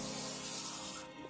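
A steady hissing spray of Pam cooking spray into a brownie pan lasts about a second, then cuts off abruptly, close by and fairly quiet.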